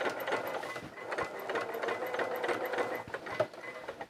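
Sewing machine stitching around the edge of coverall fabric, a fast, even mechanical chatter with rapid ticking needle strikes, close and fairly quiet, running continuously with small pauses in rhythm.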